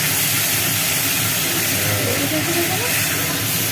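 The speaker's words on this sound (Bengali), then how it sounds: "দুটো দুটো করে মাংসর আলু ভাজি ভেজে নিই" Potato pieces for a meat curry fry in hot oil, giving a loud, dense, continuous sizzling hiss that fills the whole stretch without a break.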